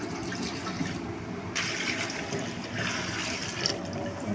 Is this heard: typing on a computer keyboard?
no